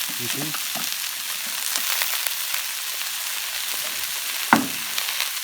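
Onion, courgette, aubergine, pepper and fennel sizzle steadily on a hot plancha, a close, continuous frying hiss with a few crackles and one sharp tap from a utensil partway through.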